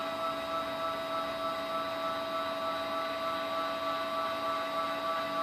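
X axis motor of a home-built CNC mill jogging the cross slide back and forth, a steady whining mechanical drone with constant tonal hum, holding even and continuous with no breaks.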